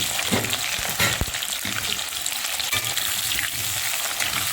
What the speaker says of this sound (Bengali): পটলের আলুটা একটু ভালো করে ভেজে নিই